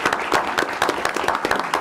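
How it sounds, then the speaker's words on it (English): Applause for students at a school board meeting: a steady round of many hands clapping, dense and even from start to finish at moderate loudness, with no voices. "I'd like to give them a round of applause."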